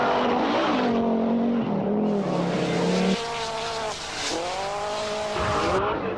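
Mitsubishi Lancer rally car on a gravel stage, its engine note loud and close, rising and falling through gear changes with tyre and gravel noise throughout.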